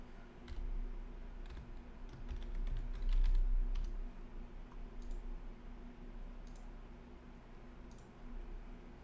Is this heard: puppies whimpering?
no